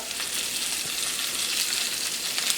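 Cauliflower steaks sizzle in a very hot pan, giving a dense, even frying hiss up close that holds steady for the whole stretch with no voices.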